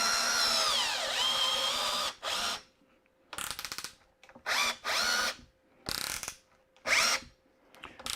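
A power screwdriver drives screws in a long whirring run followed by several short bursts separated by quiet gaps, each burst close and sharp.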